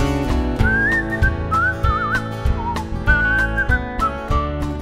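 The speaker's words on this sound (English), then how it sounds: "I've been practicing my whistle." Someone whistles a clear, wavering melody over a guitar-backed folk song, the whistled line gliding between notes in short phrases above the strummed accompaniment.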